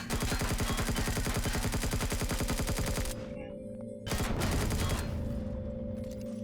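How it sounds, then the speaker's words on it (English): Rapid automatic gunfire from enemies in Empyrion Galactic Survival, a dense, loud burst of fast shots for three seconds, then a short lull and a second volley of rattling fire. "Whoa, I say that, and then he shoots me."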